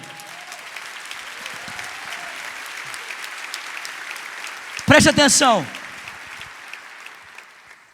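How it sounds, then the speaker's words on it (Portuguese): A church congregation applauds during a Christian worship service, with a steady wash of clapping running beneath a speaking voice, punctuated by a brief louder swell midway. "Esse é o Cristo, pode aplaudir."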